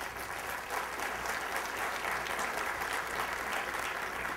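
An event audience gives a steady, even round of applause, a continuous wash of clapping at moderate distance with no voices over it.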